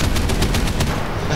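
Rapid bursts of automatic gunfire from aircraft and anti-aircraft guns in the War Thunder combat game, a loud continuous rattle of shots over a low roar of engines.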